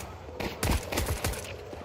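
Pistol fire in an esports video game match sounds as a quick burst of several sharp shots, fairly faint within the mix of game sound.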